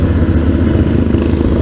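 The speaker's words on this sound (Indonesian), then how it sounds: "mesin V-twin" A Moto Guzzi V7 Stone Scrambler's two-cylinder V-twin runs close by with a loud, steady low rumble and a faint clatter throughout.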